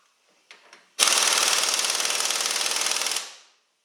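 Loud rapid-fire hammering from a compact Urceri impact wrench on its lowest setting, number 1: two short taps, then a sustained two-second burst of clattering impacts that winds down to silence, with no speech.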